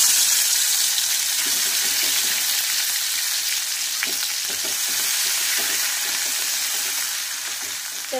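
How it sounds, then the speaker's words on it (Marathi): Ground masala and bay leaves sizzle loudly in hot oil in a kadai, a dense, steady frying hiss up close that fades slightly toward the end, with faint stirring knocks and no speech. "तर तेल आपलं छानपैकी असं तापलेलं होतं, त्यामुळे मसाल्याला मस्त तडका बसलेला आहे।"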